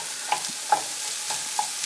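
Eggs for a Spanish omelette sizzle steadily in a nonstick pan while a utensil stirs them, with soft scraping ticks every half second or so over the constant close frying hiss.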